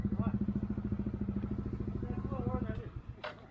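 A motorcycle engine idles close by with a steady, rapid chugging pulse that fades near the end, while people talk over it.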